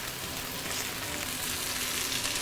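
Fish pan-frying in a non-stick wok gives a steady, close, even sizzle with a dense crackle that holds at the same level throughout, with no talking.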